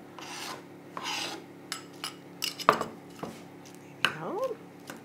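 Diced avocado is mixed with lime and onion in a bowl, giving soft wet rubbing and scraping strokes with a few sharp clinks of a utensil against the bowl, close and fairly quiet.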